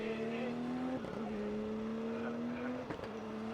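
A Nissan 180 drift car launching at Fuji Speedway during qualifying, its engine holding a sustained droning note with brief dips at gear changes and faint tire noise, heard at a distance with an announcer talking over it.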